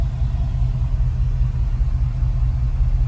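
A 1971 Chevrolet K10 fitted with Dynomax Super Turbo mufflers idles at about 650 rpm, giving a steady, loud low rumble from the exhaust with no revving and no voices.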